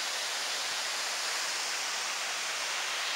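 Antankallo waterfall at night, a steady, dense rush of falling water filling the whole short stretch, loud and unbroken with no voices.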